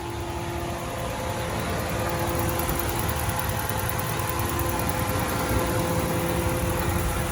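A 2017 Ram 1500 Laramie Longhorn 4x4 pickup idles with a smooth, steady engine hum and low rumble, constant and unbroken, with no talking.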